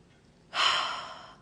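A single slow, deep inhale taken close to the mic, a soft airy rush that begins after a short quiet pause and fades gradually.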